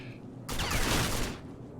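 Enemy gunfire in the video game RAGE: a rapid burst of shots erupts suddenly, loud and dense, for under a second before it cuts back to quiet ambience.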